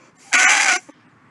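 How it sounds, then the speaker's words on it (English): A raven calls once in the background, a single harsh croaking caw of about half a second, fairly clear against a quiet outdoor backdrop with no talk. "There's a noisy raven in the background somewhere."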